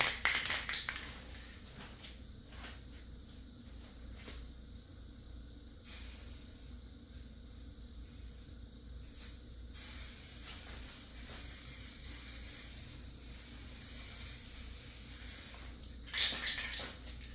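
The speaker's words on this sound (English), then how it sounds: "I'll just keep spraying until I'm out of paint" Aerosol rattle cans spraying paint onto a car bumper give a steady, close hiss that runs through most of the stretch, with short louder bursts near the start and end.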